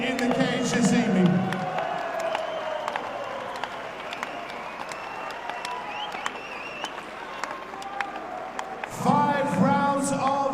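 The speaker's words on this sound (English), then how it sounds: "please give a round of applause for two men who have left everything in the cage this evening" A cage-side crowd at an amateur MMA lightweight title bout applauds and cheers the two fighters after a five-round fight. The clapping is steady and continuous, with an announcer's voice ringing out over it at the start and again near the end.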